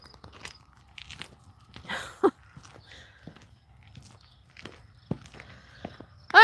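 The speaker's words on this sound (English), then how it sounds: "hey, dog, don't chew on that." A dog chews on something nearby, giving scattered soft bites and crunches at uneven intervals with quiet pauses between them.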